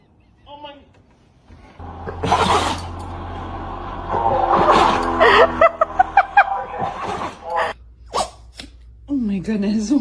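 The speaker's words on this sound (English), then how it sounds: "Oh my goodness, what a big sneeze." A dog gives a big sneeze close by indoors, with short startled human exclamations and laughter around it and people talking over the background.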